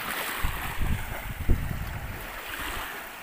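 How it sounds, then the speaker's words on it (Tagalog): Large sea waves slap and surge around a boat at sea, with irregular thumps and splashes over steady wind noise on the microphone, close and fairly quiet. "Medyo malalaki nga pala yung alon ngayon, pero kaya rin naman yan ng bangka."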